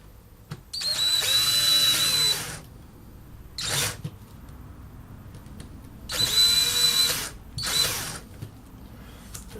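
A power drill whirs in four bursts while framing a canvas, two long runs and two short ones, close and loud with quiet pauses between.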